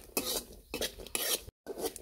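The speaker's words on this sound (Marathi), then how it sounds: "यासाठी आपण आता खोबरं भाजून घेणार आहोत तेलामध्ये." Coconut and two cardamom pods roasting in oil in a pan over a wood-fired chulha, heard as short bursts of scraping and clinking from a spatula against the pan, in three or four quick strokes with a brief silent gap.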